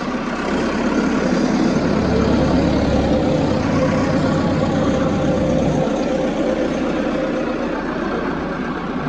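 A tractor engine runs steadily while the machine is stuck, a rough low diesel drone with a heavier rumble rising for a few seconds before settling, no talking over it.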